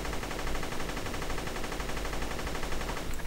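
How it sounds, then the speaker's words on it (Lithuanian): Rapid machine-gun fire in the video game Guncraft is aimed at the player, a dense, continuous rattle of shots that runs unbroken and loud from start to finish. "mane šaudo."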